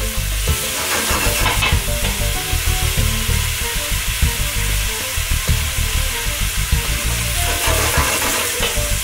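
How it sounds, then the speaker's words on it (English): Onions sweating in a pan for a from-scratch lasagna sauce, a loud, continuous close sizzle broken by rhythmic stirring scrapes and knocks of a utensil against the pan, with no voices. "Just basically want to sweat them off, get that sweetness out of them, give them a bit of flavour."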